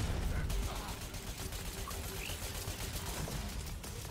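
Rapid turret gunfire rattles in the Crucible shooter, a dense stream of sharp repeated shots over a rough, noisy background, fairly quiet overall, with faint voice-like bits mixed in.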